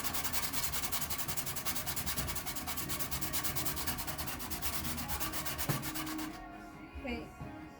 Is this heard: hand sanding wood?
yes